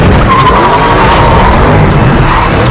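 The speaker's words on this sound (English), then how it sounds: "the final sequence, which is a great Batmobile chase" Batmobile tires scream in a loud, sustained skid during a car chase scene, the harsh squeal running continuously with a rumbling engine underneath.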